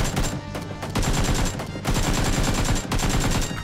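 Rapid automatic gunfire in the battle royale game PUBG, a dense burst of shots with a brief pause partway through, loud and close throughout.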